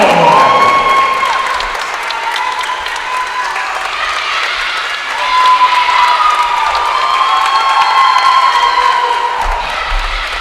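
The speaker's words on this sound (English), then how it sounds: "Ladies and gentlemen, a big round of applause" A crowd at a women's basketball game applauds and cheers for a player, loud sustained clapping with whistles and shouts, swelling again partway through.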